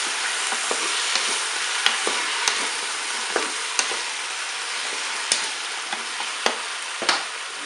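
Courgettes, tomato pieces and aubergines sizzle steadily in a Cookeo pot, with sharp clicks and scrapes of stirring scattered through a constant frying hiss.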